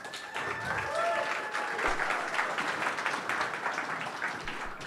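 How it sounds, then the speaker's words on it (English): Applause from a tech startup event audience, a sustained crowd clapping at moderate loudness with a few voices and a brief whistle-like tone over it. "we can give a round of applause to Tom"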